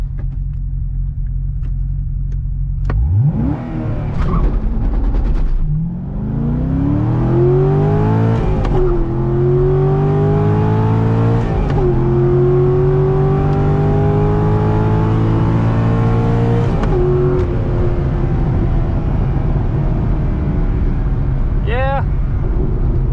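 A stock Corvette C6 Z06 at a drag strip roars loudly from idle into a hard launch, engine pitch climbing through several gear shifts with brief dips, then settling into a steady high drone before backing off.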